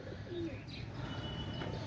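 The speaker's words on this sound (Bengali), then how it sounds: "অনেক সুন্দর কবুতর" Royal Teddy and Kalanka Indian pigeons coo softly at close range, a low murmuring call over steady background hum, with faint chirps and no talking.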